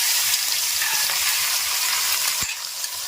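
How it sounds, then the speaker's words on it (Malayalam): Crushed garlic frying in hot oil in an uruli, a traditional Kerala pan, giving a steady, close sizzle with faint stirring clicks and a brief scrape near the end. "നമ്മൾ ചതച്ച് വെച്ചാൽ വെളുത്തുള്ളി അങ്ങോട്ട് ഇടാൻ നോക്കാം."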